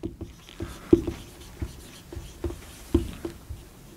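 Chalk or marker knocking and scraping across a board in a physics classroom, a string of close taps and short strokes in irregular rhythm, with no talking.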